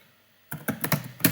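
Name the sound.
typing on a computer keyboard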